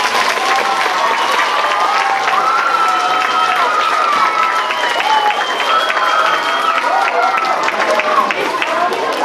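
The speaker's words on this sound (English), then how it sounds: "So let's give them one more round of applause." A school crowd at a Veterans Day assembly gives a loud, dense round of applause for veterans, mixed with cheering and excited voices throughout, sustained at full level for the whole stretch.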